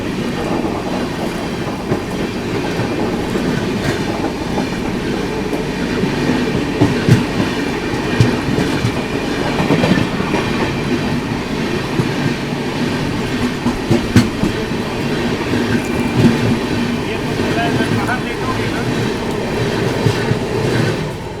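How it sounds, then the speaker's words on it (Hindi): The Anand Vihar–Sitamarhi Lichchhavi Express rumbles past at close range, its wheels keeping up a steady clickety-clack over the rails with a loud, continuous roar that holds for the whole pass. "सामने से आती हुई दोस्तों आप लोगों की लिच्छवी एक्सप्रेस"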